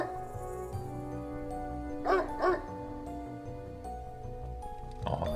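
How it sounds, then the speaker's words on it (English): Dog barking in the horror video game Spirit Hunter: NG, two quick sharp barks rising above a low ambient music bed, moderately close, with a further short sound near the end. "the dog was barking at someone behind him"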